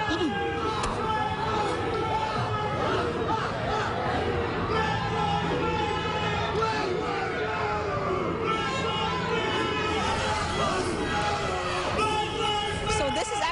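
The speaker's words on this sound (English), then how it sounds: "You can hear the chanting, but you can see the police in full riot gear." A street protest crowd with police in riot gear nearby, a dense wash of many voices and crowd noise running continuously throughout, with chanting blended into the general hubbub rather than standing out sharply.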